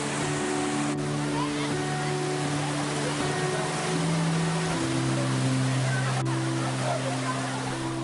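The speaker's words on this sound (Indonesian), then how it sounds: "Air terjun Grojogan Sewu terkenal dengan aliran airnya yang deras dengan ketinggian hingga puluhan meter" Grojogan Sewu waterfall in Tawangmangu, Karanganyar, with a strong flow dropping tens of metres, makes a steady, unbroken rushing roar, with a voice speaking over it.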